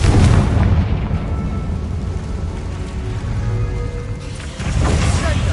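Confringo fire spell from Hogwarts Legacy bursting in a goblin mine battle, a loud sustained blast with dense rumbling low end lasting several seconds, a fresh heavy boom hitting near the end.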